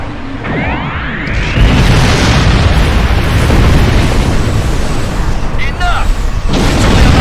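A doomsday weapon fires indiscriminately in Star Trek Online, producing loud, continuous booming explosions with roaring rumble, and voices speak over the barrage.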